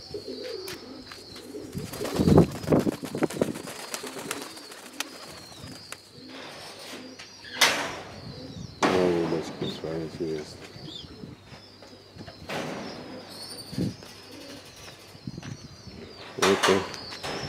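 Pigeons at a dovecote in Maksimilyanovka coo and flap their wings in repeated loud bursts of fluttering, with softer calls between. People talk close by throughout.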